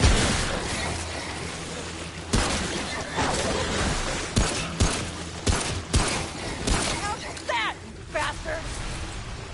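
Gunfire in the game Remnant, sharp shots in an irregular string of separate bangs over a noisy battle bed, with someone talking excitedly between them.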